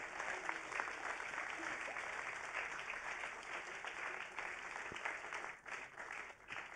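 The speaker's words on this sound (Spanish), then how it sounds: "Come on, let's clap our hands at Jesus." Pentecostal church congregation clapping hands during a bilingual worship service, a steady dense patter of many hands that fills the whole stretch at moderate volume and dips briefly near the end.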